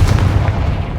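A Confringo blasting spell explodes in the Hogwarts Legacy video game, heard as a loud, deep, sustained rumbling boom with heavy low-end weight filling the whole second, with no voices.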